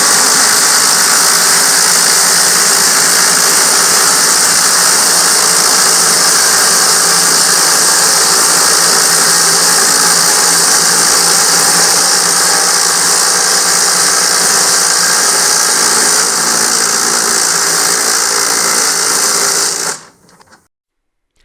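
Impact drivers, a Bauer and brushless models, driving 0.36-inch lag bolts, a continuous loud high-pitched whirring and hammering drone that holds for about twenty seconds and then cuts off abruptly.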